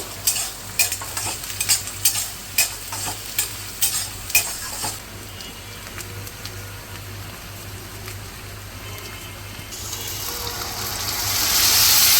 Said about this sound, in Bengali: কড়াইয়ে তেল দিয়ে কয়েকটা শুকনো মরিচ দিয়ে দিলাম তারপরে পেঁয়াজ দিয়ে দিলাম পেঁয়াজটা এখন ভেজে নেব